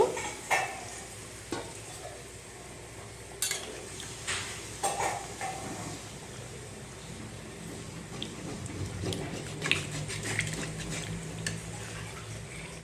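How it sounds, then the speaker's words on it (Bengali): Chicken frying for a spiced Bengali chicken curry crackles softly while a spoon stirs and taps the pan in scattered knocks, then a little water goes in and the sizzle rises briefly near the end. "এখন অল্প করে জল দিয়ে দিচ্ছি, খুব একটা বেশি জল দেব না, আমি অল্প জল দেব।"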